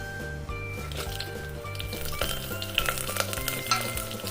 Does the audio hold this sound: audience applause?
no